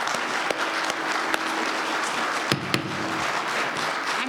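Audience applause at a board of directors meeting, steady clapping from a room of residents with a few sharper individual claps standing out, continuous and fairly loud throughout.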